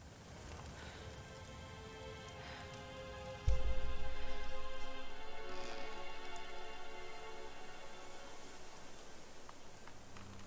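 Storm rain in Tomb Raider Definitive Edition, steady rain hiss on surfaces, then a sudden low thump of thunder that slowly fades back into continuous downpour.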